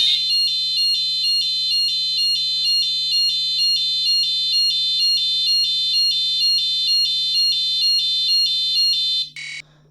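A Nash Siren RS-1 carp fishing bite alarm sounds its warning tone, a loud, piercing electronic beeping pulsed in a rapid steady rhythm for about nine seconds before cutting off abruptly, with no talk.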